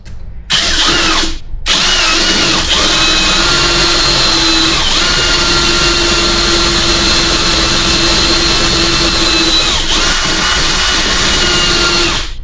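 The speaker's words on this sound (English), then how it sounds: "drilling it deeper than it needs to be is not a problem" A power drill bores deeper into a 242 HD transfer case output shaft for a slip yoke eliminator install, whining loudly and steadily after two brief starts, with a sustained high motor tone.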